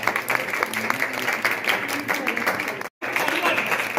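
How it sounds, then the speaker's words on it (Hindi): A Republic Day celebration audience at an educational society applauds steadily and fairly loudly, the clapping thick and continuous apart from a brief dropout near the end. "जोरदार तालियों के साथ"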